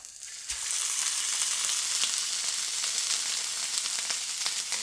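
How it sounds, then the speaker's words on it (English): Smoked baby beef tenderloins searing in a hot pan, a loud, dense, continuous sizzle that starts abruptly and holds steady throughout, close up with no voices. "I need to get some more color on here. Get a little sear on here."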